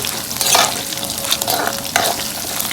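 Dried red chillies fry in hot oil for a spicy lemon rice, giving a continuous close sizzle with louder crackling bursts as the pan is stirred. No one speaks.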